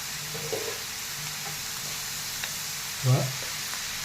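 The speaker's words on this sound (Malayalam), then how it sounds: "തക്കാളി സവാള മഞ്ഞപ്പൊടി ഉപ്പിട്ട് നമ്മളൊന്ന് വഴറ്റാണ്" Chicken frying in a pan with onion, tomato, turmeric and salt gives a steady, moderate sizzle, with a brief louder burst of frying noise about three seconds in.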